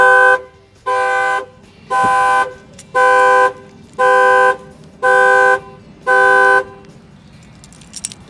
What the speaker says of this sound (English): This is the shock sensor to the factory alarm in this Dodge.